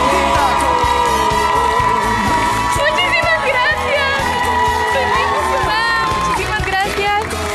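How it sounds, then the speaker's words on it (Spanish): A television studio audience cheers and applauds loudly in a dense, continuous roar while music plays and voices shout over it. "Quiero un fuerte, fuerte aplauso para Cristina Muñiz."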